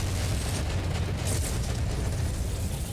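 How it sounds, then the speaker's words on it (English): Dense, sustained explosion rumble in the mech combat game MechWarrior 5, a loud continuous low boom with crackling debris texture throughout, no pause or talk. "It's nice when you can use the splash of the explosion to highlight where you need to shoot."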